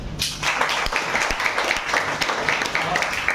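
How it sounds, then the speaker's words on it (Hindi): An audience of students at a coaching institute applauds for an interview candidate, a steady, moderately loud clatter of many hands, with a voice speaking underneath. "इनके लिए भी तालियां"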